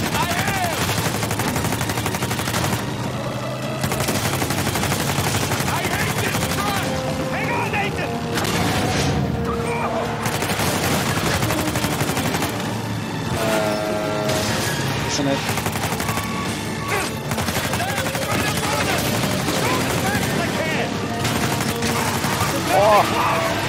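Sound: gunfire in the video game Uncharted 4

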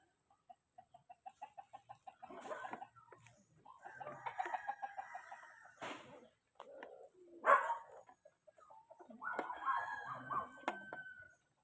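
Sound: native chickens crowing

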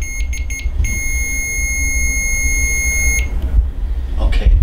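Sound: electronic device beeping during paranormal investigation

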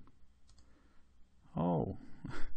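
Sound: computer mouse clicks selecting shapes in GeoGebra

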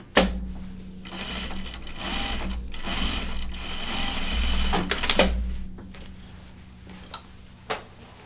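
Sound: sewing machine edge stitching fabric

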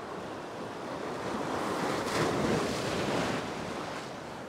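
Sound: ocean waves breaking near rocks

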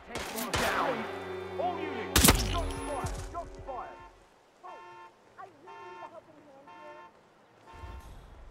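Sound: gunfire in the video game Hitman 3

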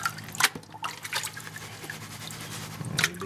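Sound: water washing sand and gold in a gold pan

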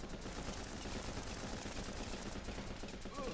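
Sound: rifle gunfire in Running With Rifles video game

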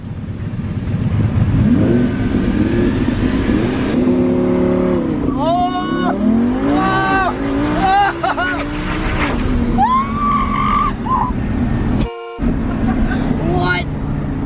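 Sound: twin turbo sports car accelerating during ride-along

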